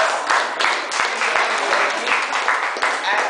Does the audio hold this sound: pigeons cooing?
no